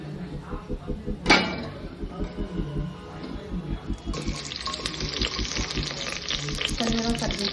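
Onions fry in two tablespoons of oil in a pan for paneer biryani, a steady sizzle with stirring clatter and a sharp clank, the frying growing louder and brighter toward the end, under a voice.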